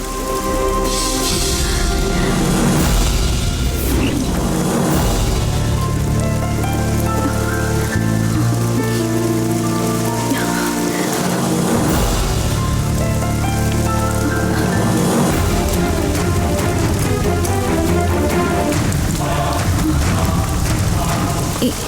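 Steady heavy rain patters loudly on surfaces, mixed with a dense wash of music-like tones throughout.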